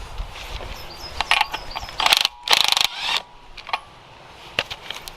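Close, sharp ratchet clicks undoing a shock absorber fitting on a Mercedes Vito W639 campervan, heard as a few quick clicking bursts with brief gaps and some scraping.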